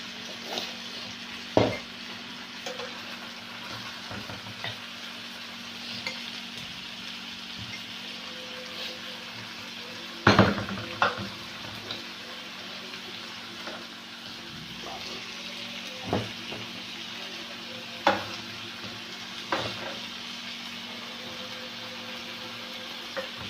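Chicken in marinade and spices being stirred in a pan, a low sizzle with intermittent scraping and knocking of a spoon against the pan, a few sharper clanks punctuating the steady frying noise.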